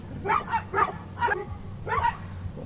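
Several dogs bark in bursts of four quick, fairly close yaps over a steady low hum, near a brood of newly hatched chicks.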